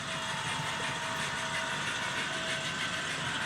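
An HOn3 scale model diesel locomotive runs steadily, giving a faint, even mechanical hum with a thin high whine and no pauses.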